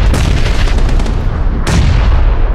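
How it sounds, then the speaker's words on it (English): Grenade blasts in the battle-royale game PUBG, loud booming explosions over continuous rumbling noise, with one sharp burst near the end standing out above the din. "I'm just going to back up and keep nading."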